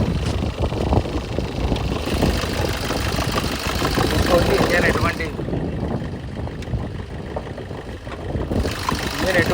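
A 2018 Maruti Suzuki Vitara Brezza ZDI diesel engine idles with a steady low rumbling clatter, close and continuous, with a faint hiss layered over it.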